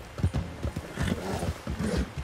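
Galloping horse hooves in Red Dead Redemption 2 beat a quick, even clip-clop, close and fairly loud, with no voices over them.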